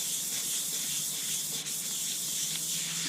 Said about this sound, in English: Keep rubbing in a circular pattern